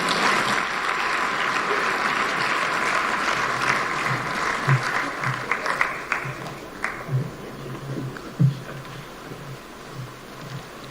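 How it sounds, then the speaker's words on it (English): An audience at Kenya Innovation Week 2023 claps steadily and loudly, a dense sustained wash of applause that thins slightly toward the end, with a few sharper individual claps standing out. "Let's give another round of applause to Patricia."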